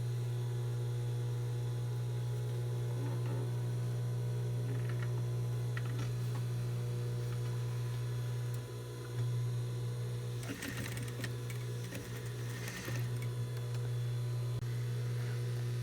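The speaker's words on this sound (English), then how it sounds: "So I have my sewing machine on." A sewing machine stitches around the edges of a fabric bandeau top, giving a steady close motor hum with a busier stretch of rapid mechanical needle clatter in the middle.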